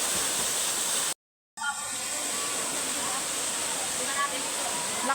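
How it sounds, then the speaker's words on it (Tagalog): Steady broadband rush of the third waterfall at Sagodsob Falls in Sitio Camote, Casispalan, Quezon, loud and continuous, with a brief dropout near the start and faint voices mixed in. "Pangatlong falls."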